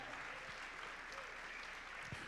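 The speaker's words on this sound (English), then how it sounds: "Can we just please give one more clap for that donation?" A short burst of audience clapping at a fundraising dinner after a donation is announced, a dense even patter from a crowded room, with a few louder claps poking through.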